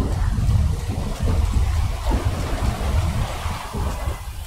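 Heavy rain and rolling thunder in Grand Theft Auto V during a typhoon, a loud, steady low rumble with a constant wash of downpour and no voices.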